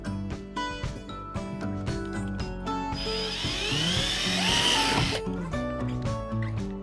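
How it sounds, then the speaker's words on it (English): A drill boring a 3/16-inch hole through the plastic hull of a Hobie Mirage Passport 12.0 kayak: a steady whining burst of about two seconds in the middle, with clattering background noise before and after. "be careful when you're drilling this hole"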